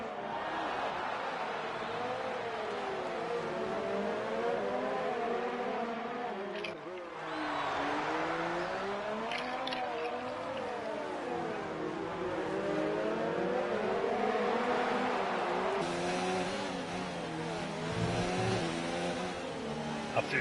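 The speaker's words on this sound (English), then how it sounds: "And while these three cars have been battling this out, quietly, Felix Negwer starting to come into the fold." F2 race cars in an online racing game on the Azerbaijan street circuit, engines whining steadily with rising and falling pitch as several cars battle closely, loud and continuous under commentary talk.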